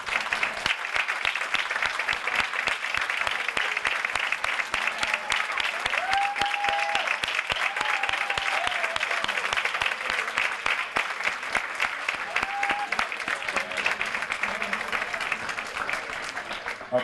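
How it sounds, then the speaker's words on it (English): An audience at a graduation awards ceremony applauds steadily in a dense, sustained wash of clapping that lasts throughout, with a voice speaking briefly over it. "let's have them stand up and give them a round of applause too."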